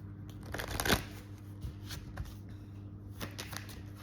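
Romance angel cards are shuffled by hand as a deck, giving soft papery riffling and flicking sounds with one louder burst early on, close and fairly quiet over a low steady hum, with no talking.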